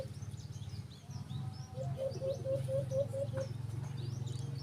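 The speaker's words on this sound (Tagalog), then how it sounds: "Ayan mga birds." Small birds chirp in short repeated tweets, a quick rising run of calls in the middle over a steady low background hum and occasional soft coos, fairly close and moderately loud, with no voices.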